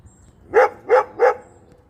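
Three short, evenly spaced barks from a neighborhood dog along a trail, fairly close and clear, with quiet background and no talking.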